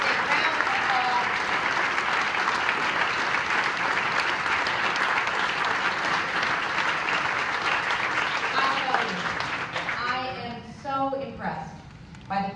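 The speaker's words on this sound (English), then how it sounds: "A round of applause." A large audience at a community recognition event in Crawfordsville breaks into sustained, loud applause, steady and dense for about ten seconds before tapering off as a voice begins speaking over the final claps.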